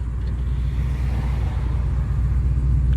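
A New Edge Mustang GT with straight-piped exhaust idles close by, a loud, steady low rumble with a throbbing pulse and no one talking.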